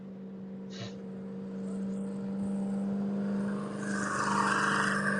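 Off-road race buggies in the Vegas to Reno desert race drive past with a steady engine drone that swells as one approaches, plus a brief higher whine, mid-distance and fairly loud.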